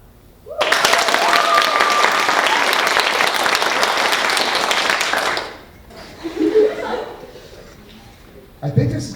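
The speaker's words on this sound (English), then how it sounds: "Vote by applause as I walk past each person." Classroom of high school psychology students bursts into loud applause for several seconds, then fades to scattered clapping, murmurs and chuckles, with a brief renewed burst of clapping at the end.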